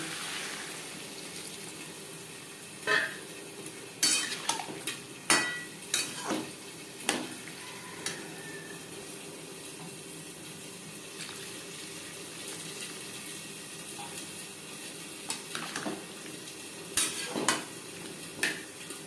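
Papaya fries with salt and turmeric in a pan, a low continuous sizzle broken by bursts of scraping and stirring clatter, some sharp utensil knocks grouped early and again near the end.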